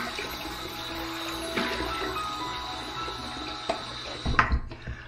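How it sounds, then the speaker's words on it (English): Water splashing at a sink as a man wets his face before a wet shave, steady running and splashing with a few louder splashes and a clunk near the end, close by. "Let's go ahead and wet the face and get to the shave."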